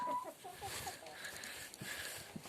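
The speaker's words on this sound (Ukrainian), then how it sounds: "Отак от кури." Several hens cluck and chatter softly nearby in short, uneven bursts, with faint farmyard background noise.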